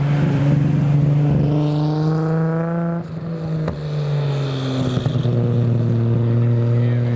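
A Mitsubishi GTO and a Nissan R32 drive out loudly at a JDM car show roll-out, with deep rumbling exhausts rising and falling in pitch as they rev and pass close by, an engine dropping away midway before another surges in.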